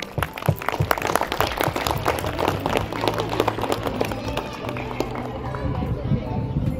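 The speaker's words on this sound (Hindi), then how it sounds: "उन महिलाओं के लिए एक बार जोरदार तालियां हो जाए" Loud, dense applause from a seated crowd at a Women's Day celebration, steady clapping filling the room with light chatter mixed in throughout.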